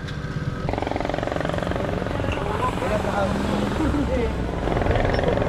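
A motorcycle with a loud aftermarket exhaust roars close by, a dense, throbbing engine drone that holds steady throughout while voices talk underneath.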